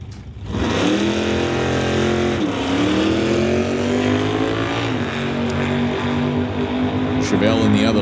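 A 1963 Chevy Nova and a Chevelle drag race down a strip, their V8 engines roaring loud and sustained as they pull through the gears, with a commentator talking over the noise.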